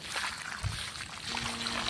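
A faint, soft trickle of water running steadily onto plants for a moment, quiet and close, with no voices.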